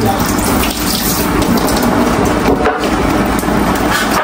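Sponge gourd (patola) rinsed under a running kitchen tap, a steady broadband rush of water splashing over the vegetable in a sink, continuous and close with no talking.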